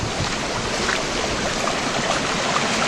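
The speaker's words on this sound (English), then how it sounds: "this is the lovely fresh spring water that runs right through the middle of the site" Fresh spring water runs through the middle of a site as a steady, close stream, a continuous broadband rush of flowing water that holds even throughout with no talk over it.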